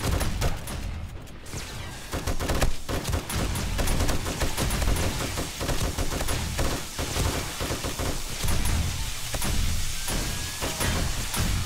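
An M60 machine gun in the game 7 Days to Die fires sustained rapid bursts, loud and close, with a rattling stream of shots across the whole stretch and only short pauses between volleys.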